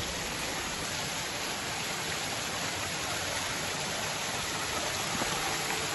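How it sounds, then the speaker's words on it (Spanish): Waterfall along a riverside trail, a constant broadband rushing roar of falling water, steady and fairly close, with no voices over it. "Una cascada más en el sendero por toda la orilla del río."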